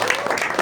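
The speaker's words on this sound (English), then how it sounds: "can you give them a big round of applause?" Audience applause at a live one-man-band show in Goregaon, Mumbai: a short burst of dense crowd clapping, fairly loud and close, with no voices over it.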